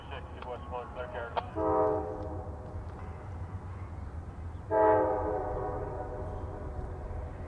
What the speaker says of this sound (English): Powering the train is a pair of consecutively numbered SD40-3s